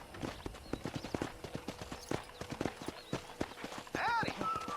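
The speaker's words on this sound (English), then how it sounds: "I picked out a fine horse for you." Horse hooves clip-clop in a steady walking rhythm on a ranch in the video game Red Dead Redemption 2, with a voice talking over the hoofbeats and a brief whinny near the end.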